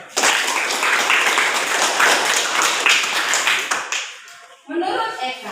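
Loud, close applause from a crowd at a church youth event, dense clapping that fades out after about four seconds, followed by a brief bit of talking.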